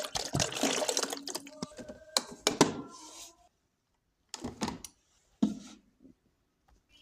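Water poured from two bottles into a home coffee machine, splashing and trickling in a few bursts, loud at first and then in short separate pours with quiet gaps between.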